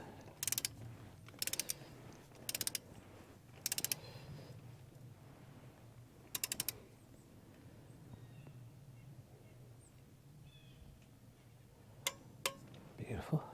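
Torque wrench ratcheting on bolts of a Ford 555 backhoe during an engine rebuild, heard as several short, sharp ratchet bursts spaced irregularly over a low steady background hum.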